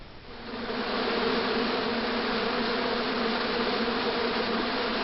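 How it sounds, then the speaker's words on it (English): An angry hornet nest hidden in a bush in the game Broken Sword 2, a dense, continuous droning buzz that swells in over the first second and then holds loud and steady. "There was a hornet's nest somewhere in that bush."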